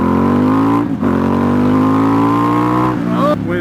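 A Ducati XDiavel S motorcycle engine revs loud and close, holding a steady roar with brief throttle blips and dips in between.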